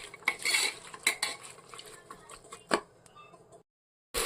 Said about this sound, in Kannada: ಒಂದು 5 ಮಿನಿಟ್ಸು ಚೆನ್ನಾಗಿ ಫ್ರೈ ಆಗೋವರೆಗೂ ತಿರುಗಿಸ್ಕೊಳ್ಳಿ.